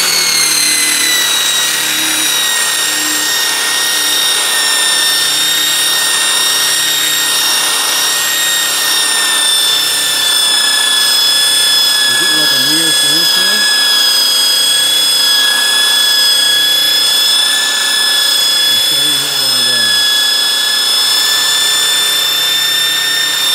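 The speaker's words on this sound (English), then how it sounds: "we're gonna use the woolen buffing wheel on the restore, and we're gonna clean it off and give it a nice polish" Power tool spinning a woolen buffing wheel to polish bare aluminum, a steady loud high-pitched whine throughout with brief rubbing surges as the wheel presses the metal, no talk.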